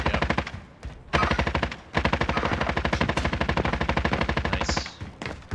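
Rapid automatic gunfire from Call of Duty Warzone rattles in long, loud bursts of tightly spaced shots, with short gaps between volleys and one brief pause near the start.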